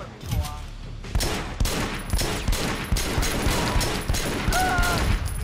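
Rapid bursts of video game gunfire from TriadWars, loud repeated shots in clusters with booming impacts over game effects, some voice-like tones mixed in.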